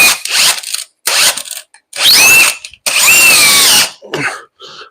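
A power drill drives a screw into a bathroom floor during a remodel, sounding as several short, loud whirring bursts with brief quiet gaps between them.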